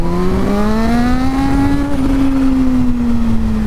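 Kawasaki Z H2 motorcycle accelerating hard in second gear to lift a wheelie, its engine note climbing steadily in pitch, loud and close, with no talking.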